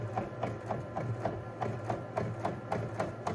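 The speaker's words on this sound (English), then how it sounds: "here we go, your first disc is printing." A Primera Bravo 4051 disc printer printing a DVD, its print head sweeping in a quick regular rhythm of soft clicking strokes about every quarter second, close and quiet.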